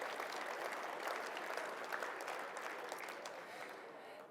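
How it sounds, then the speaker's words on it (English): Sustained, dense applause from a large audience at a conference session before a keynote, loud and steady throughout and slowly tapering toward the end. "Let's give them a big round of applause."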